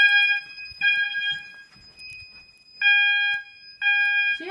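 A mass notification fire alarm sounds during a system test with loud, piercing electronic tones in repeated pulses about a second long, separated by short gaps, with faint background noise between them.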